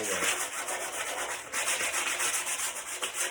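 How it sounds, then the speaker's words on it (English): Rough-grit sandpaper rubs across a wooden faux beam in continuous, close back-and-forth strokes, producing a dense, hissing scratch with no voices. "now what I'm going to do is take a rougher grit sandpaper and just take off all"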